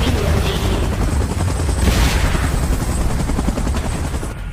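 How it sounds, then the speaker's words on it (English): A helicopter in the PUBG Mobile Godzilla vs Kong mode drones loud and steady throughout, its rotor wash filling the scene at close range. "chopper in position. Please evacuate immediately."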